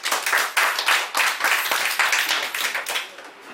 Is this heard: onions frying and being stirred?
no